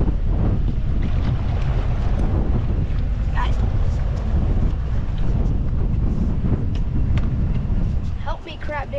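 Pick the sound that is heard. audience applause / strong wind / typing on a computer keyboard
strong wind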